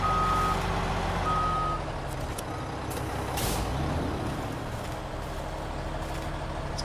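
A Mack truck in SnowRunner strains to pull a heavy trailer: a low, steady engine drone under repeated tonal beeps, with short bursts of air hiss and no voices.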